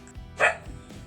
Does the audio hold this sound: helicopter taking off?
no